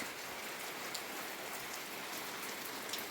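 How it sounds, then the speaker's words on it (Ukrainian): Steady, gentle rain falling on a surface, a soft continuous hiss with faint patters of drops throughout. "Дуже гарний дощик."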